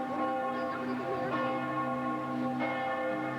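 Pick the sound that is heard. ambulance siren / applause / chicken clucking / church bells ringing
church bells ringing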